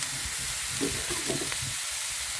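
Minced pork with seasoning stir-fried in a pan for a dish of long beans and pork, giving a steady close sizzle and hiss with soft scrapes of stirring.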